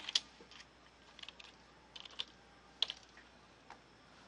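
Faint, close computer-keyboard typing comes in short irregular bursts of key clicks, with quiet pauses between them.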